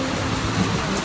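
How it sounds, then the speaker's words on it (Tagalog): Heavy rain pours during a pigeon racing derby as a dense, steady roar of downpour, loud and unbroken. "lakas ng ulan o"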